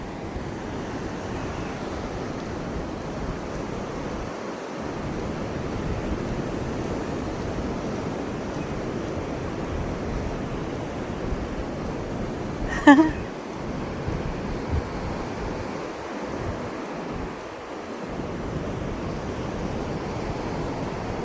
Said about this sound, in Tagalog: Sarap ng pakinggan ng ano, oh. Nung hampas ng alon.